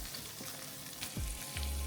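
Garlic and ketchup sauce fries in a pan with a dense, steady sizzle and crackle, close and continuous, with a few louder spatters and stirring scrapes near the end.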